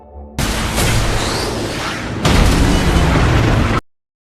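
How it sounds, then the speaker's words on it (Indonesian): An explosion in a television series roars as a dense, continuous broadband blast, swelling into a second louder burst midway before cutting off abruptly, with no voices. "Tiger menyelamatkan Bear yang nyaris terkena ledakan"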